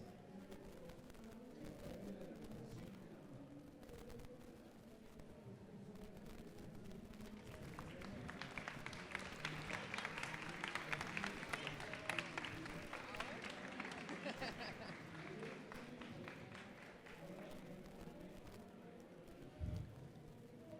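Applause from a seminar audience for the doctors after a clinical talk on legal abortion, a faint, steady patter of clapping that swells in the middle, heard from a distance with some talk.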